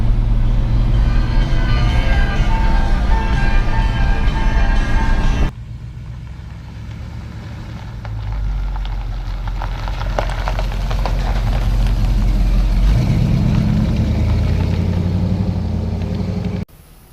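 A 1976 Chevy C20 Cheyenne Camper Special pickup truck drives along with a steady, loud engine drone and road rumble, briefly dropping quieter midway before swelling again as it cruises on.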